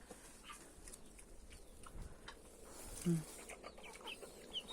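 Chickens and a rooster cluck faintly in a farmyard, a few soft, scattered calls heard at a distance against quiet background noise.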